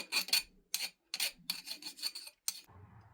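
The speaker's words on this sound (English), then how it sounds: "I'm going to take a smaller flat file and just get any of the burrs off" Small flat file rasping burrs off drilled copper: about seven short, crisp strokes in an uneven rhythm, close up and alone, with quiet gaps between them.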